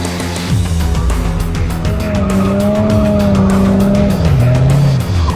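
A car drifting around a racing track built by the Pakistan Air Force in Karachi, engine roaring continuously while loud, wavering tire squeal rises and bends across the middle, close and dominant throughout.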